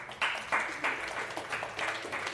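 A small group applauds the staff team at an indoor arena event, giving brief, moderately loud clapping in uneven bursts.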